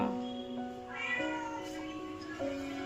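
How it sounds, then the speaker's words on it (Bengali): A cat meows several times in a row, drawn-out and wavering cries close by, fairly quiet, with no one talking. "কিছুদিন থেকে এই বিড়ালটা বাড়ি ছাড়ছে না জানো"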